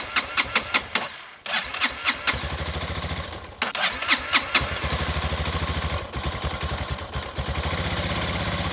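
An electric-start motorcycle in a young rider's collection cranks in short bursts, catches, stalls, then fires and settles into a steady, close idle with a quiet exhaust.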